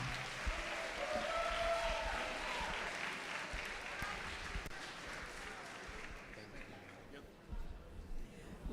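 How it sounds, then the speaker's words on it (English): Audience applause at the Black Health Matters summit during Harlem Week, a steady crowd clapping that gradually thins and fades, with scattered voices underneath. "I want to give a final round of applause for Black Health Matters and the team for the work they've done."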